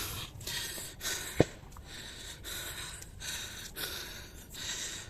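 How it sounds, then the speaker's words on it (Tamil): Heavy, rhythmic panting close to the microphone, with repeated deep breaths and a sharp gasp partway through, no talking. "பயங்கரமாக மூச்சு வாங்குதுங்க"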